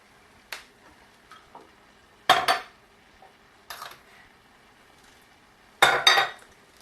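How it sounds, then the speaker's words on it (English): Barbequed jackfruit is stirred in a pot, producing four sharp, close utensil scrapes and clanks at irregular intervals, with near silence between them. "So we'll just stir this up a little bit."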